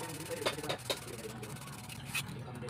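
Sandpaper rubbed by hand on the steel shaft of a 16-inch stand fan, giving soft repeated scraping strokes with a few sharper rasps, close by and moderately quiet over a steady background.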